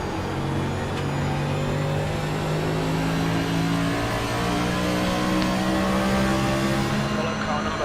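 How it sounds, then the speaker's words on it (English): Race trucks roar off the line at a race start at Homestead, a dense, steady wall of engine noise with several droning tones rising together under faint voices. "The race car has just left"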